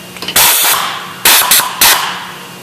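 A pneumatic air driver gun hooked to an air line fires in three loud, sharp hissing bursts of air, each cut off abruptly, close by and without talk.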